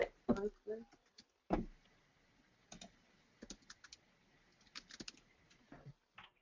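Typing on a computer keyboard during a quiet meeting, scattered clusters of key clicks with pauses between, fairly faint and close, and a few brief murmurs of voice near the start.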